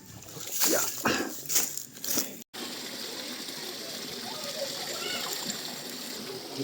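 Water runs at a campsite's water source in nature, opening with a few loud splashes before settling into a steady, close rushing flow.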